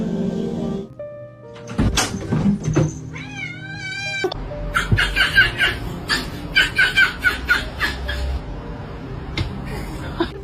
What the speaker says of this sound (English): Let me hear a meow.